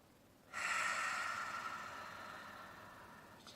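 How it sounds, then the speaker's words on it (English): One long, deep breath drawn in and slowly released during a yoga practice, a steady breathy rush that starts abruptly and fades gradually, close and alone. "I'm going to take 3 deep breaths"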